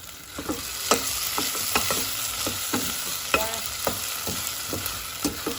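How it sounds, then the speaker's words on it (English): Onions and garlic sizzle steadily in a pan for a homemade tomato sauce, with a spoon stirring through them in repeated scraping clicks; close and moderately loud, no talking. "give a nice stir, onions and garlic"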